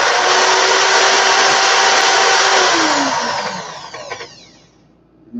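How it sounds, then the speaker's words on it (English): A handheld power drill run in reverse while loosening coil wire, a loud steady whine that holds for about three seconds, then drops in pitch and winds down to near silence, close up with no speech. "put my drill in reverse"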